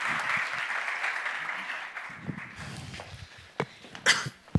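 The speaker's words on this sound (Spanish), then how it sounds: "Vamos a recibirlos con un aplauso, por favor" A conference audience applauds as a panel on Argentine LNG is welcomed; the clapping is fairly quiet and fades after a couple of seconds, leaving scattered coughs, shuffling and footsteps.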